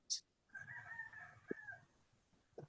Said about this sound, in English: You hear the chickens.